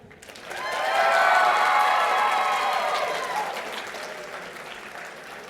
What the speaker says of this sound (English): You can keep clapping.